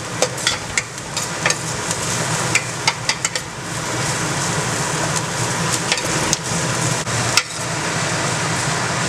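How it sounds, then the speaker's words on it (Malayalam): Chopped onions with crushed garlic and ginger sautéing in a pan give a steady, close, dense sizzle, dotted with sharp clicks and taps of a spoon scraping and stirring throughout. "നമ്മുടെ സവോള നന്നായിട്ട് വഴന്നു തുടങ്ങിയിട്ടുണ്ട്."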